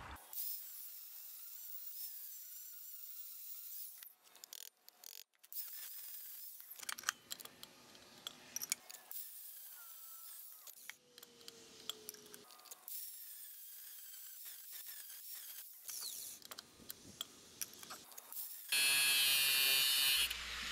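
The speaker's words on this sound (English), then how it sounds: "I'm gonna grind a slot in it so it fits around the Woodruff key." A slot is ground into a steel bolt so it fits around a Woodruff key, heard as a series of intermittent high buzzing grinding bursts separated by short pauses and handling noises, fairly close.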